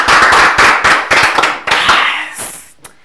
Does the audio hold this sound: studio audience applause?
yes